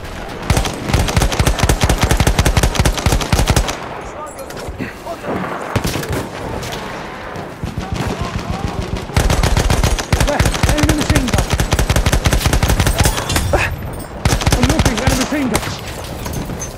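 Machine guns rattle in Battlefield 1 on the Achi Baba map: long, loud, dense bursts of rapid automatic fire with brief pauses between them, layered over distant battle noise.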